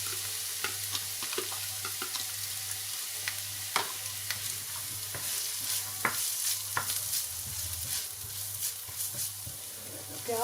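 Onions sauté in a hot pan for vegetable spring rolls with a steady close sizzle, broken by the scrape and clatter of stirring. A low hum runs beneath.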